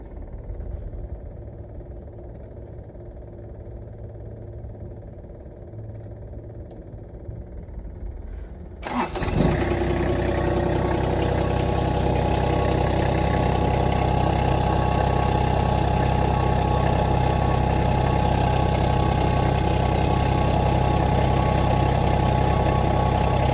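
A Kubota three-cylinder engine sits quiet before a brief crank and catches abruptly, then settles into a loud, steady, close idle that continues unbroken to the end.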